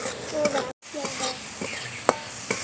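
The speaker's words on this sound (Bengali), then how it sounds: "মশলাটাকে এবার ভালো করে নাড়াচাড়া দিলাম।" A spice paste of cumin, turmeric, salt and water stirred in a pan for rui fish kaliya, with close scraping strokes over a soft sizzle, a brief dropout and a sharp knock near the end.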